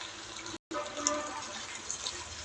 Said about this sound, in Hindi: साथ में मैं डाल देती हूँ थोड़ा सा पानी